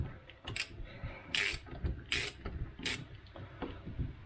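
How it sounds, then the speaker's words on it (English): Ratchet winding an adjuster nut through a part lid on a 1973 Range Rover, heard as close, repeated bursts of metallic clicking and grinding spread irregularly over a few seconds. "just winding the adjuster nut right the way through the lid, and then the lid should come off"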